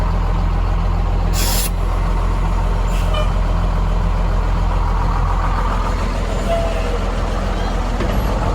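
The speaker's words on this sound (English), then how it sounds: "Little air brake action." Air brake release on an old Cummins 5.9 dump truck, a sharp hiss of escaping air over the constant loud idle of the diesel engine, with a fainter hiss following.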